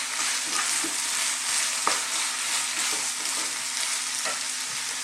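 Red onions sizzle and fry in a garlic and ginger paste for a beef curry, a constant loud crackling hiss close by, with a few soft stirring knocks and no talk.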